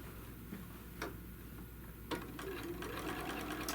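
A sewing machine stitches along the handle of a fabric tote bag, a steady rapid mechanical ticking with a few louder clunks as the needle runs, close and without speech.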